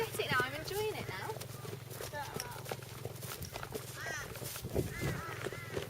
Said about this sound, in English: Here's my horse.